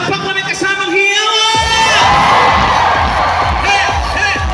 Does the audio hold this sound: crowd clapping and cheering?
yes